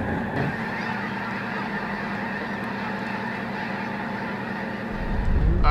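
Snow geese honk in a field, their calls merging into a steady, distant wash of a large flock, with low rumble swelling at the end.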